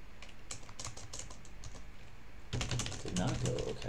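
Quick bursts of keystrokes on a computer keyboard, close and fairly quiet, with a short pause before a denser flurry of typing.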